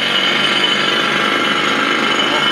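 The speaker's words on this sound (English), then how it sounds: "this is a drill for mining" A loud, continuous mechanical rattle and roar of a heavy mining drill exhibit at the Minnesota History Center, unbroken and close.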